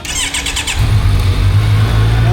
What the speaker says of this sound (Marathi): एक्झॉस्ट ऐकतो तुम्हाला.